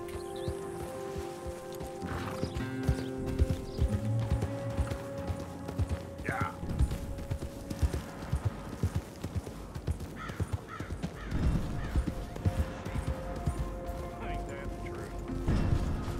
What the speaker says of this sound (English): Why is the horse keep stopping?